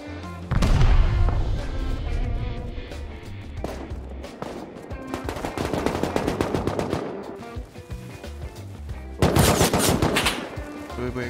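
Video game gunfire plays out as loud automatic bursts and single shots. Heavy volleys come and go, with a sharp, intense barrage near the end. Some deeper booms sit underneath.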